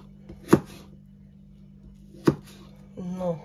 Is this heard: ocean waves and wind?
no